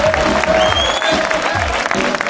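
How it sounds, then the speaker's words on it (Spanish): Studio audience applause on a 1986 Spanish television show, greeting a singer from a group; steady, dense clapping runs throughout, with music playing underneath. "¡Aplauso!"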